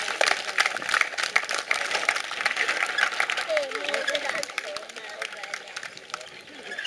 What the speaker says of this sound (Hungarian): Kérem tapsolják meg Nagy Zoltánt, Csillagot és Dajkát!